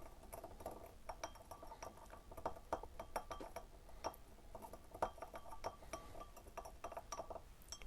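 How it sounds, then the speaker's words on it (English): Glass vessel of photographic developer being stirred as ascorbic acid dissolves, with TEA and phenidone in the mix: repeated light clinks and taps of a stirrer against glass, soft and close, with no talking. "Keep stirring to dissolve the ascorbic acid"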